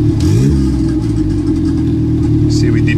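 A car engine running on a Speeduino engine management system revs sharply at the start, then settles into a loud, steady idle drone close by, with a brief blip of throttle near the end.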